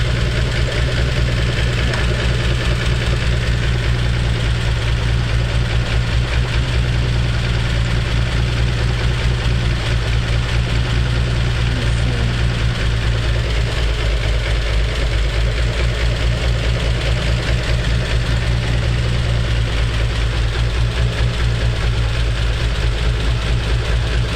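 A Dodge Stealth / 3000GT engine idles steadily with a noisy belt, a continuous loud drone with no pauses and no talk.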